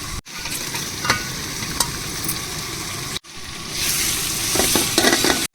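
Green chilies, tomatoes, ginger-garlic paste and curd frying in oil for prawn biryani give a loud, steady sizzle with stirring scrapes, broken by a brief pause midway, then a brighter crackle.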